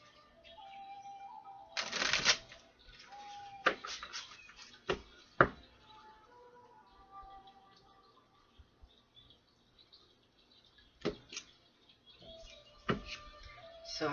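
A deck of tarot cards is shuffled in several short riffling bursts with quiet pauses between them, close and moderately loud, with no talking over it.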